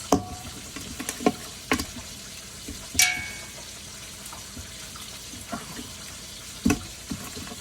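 Food frying in a pan with a faint, steady sizzle, broken by a few clanks and scrapes as pieces are flipped, close and fairly quiet, with no one speaking.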